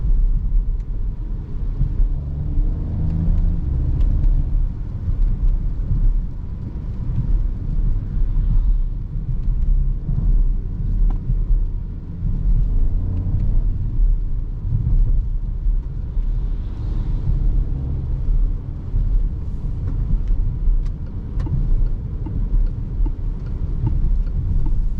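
A Peugeot 2008 GT 2024 facelift with a PureTech engine, driven in sport mode, gives a steady, loud low engine drone and road rumble that carries on without a break, with no voices.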